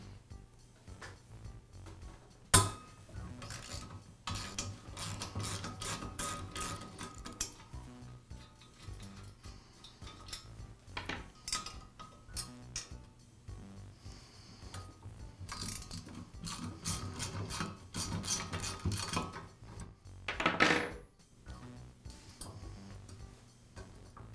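Ratchet wrench clicking as it loosens the two bolts holding an old earth blade on an auger, bursts of rapid metallic ticking in several runs with pauses between, close and fairly quiet.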